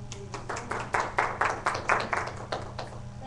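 A small seminar audience claps in a short burst of distinct handclaps, moderately close, loosely rhythmic and fading after a few seconds.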